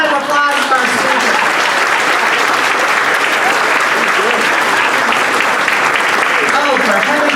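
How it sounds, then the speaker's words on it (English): A Rotary club meeting audience gives a speaker loud, sustained applause, a dense, even wall of clapping filling the room for the whole stretch with some voices underneath. "Another round of applause for our speaker."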